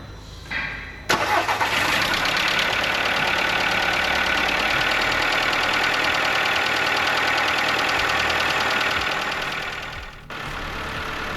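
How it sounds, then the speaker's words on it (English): A Seat Ibiza 1.4 16V petrol engine cranks briefly, catches, and settles into a steady, close idle after timing belt and water pump work, running alone without speech. "Fill in with the fresh coolant. And we can start the car up."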